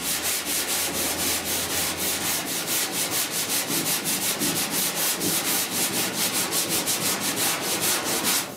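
A hand block with 180 grit sandpaper rubs body filler on the rear cab panel of a 1966 Ford F100 truck, with steady, close strokes repeating about four times a second.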